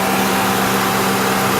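A 2006 Honda Odyssey engine idles with a steady, even hum, close and continuous, with no other sounds.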